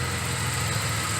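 A 1986 Nissan 300ZX engine idles steadily when warm after a stall-problem repair, a close, even low rumble with constant vibration and no talk.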